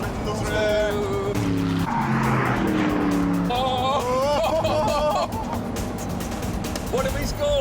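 A fast sports car arrives and screams past on a wet test track, engine note rising and falling with tyre hiss over a loud steady background, while someone talks excitedly throughout.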